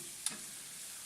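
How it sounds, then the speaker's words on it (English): Mince sizzles in oil in a pan with a soft, steady frying hiss throughout and a couple of faint ticks. No voices. "You can see the oil that's coming out, it's sizzling away."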